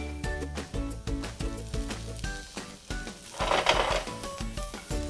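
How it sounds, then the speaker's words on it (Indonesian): Garlic and onion sizzle in hot oil in a pan, a crackling fry with light stirring that swells louder partway through, set against a rhythmic tonal background. "Bisa langsung masukkan bawang putih dan bawang bombay."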